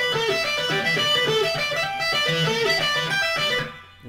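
An electric guitar plays a lick with string bends that are not pushed fully up to pitch, sliding notes over a moving line, close and clear before fading out.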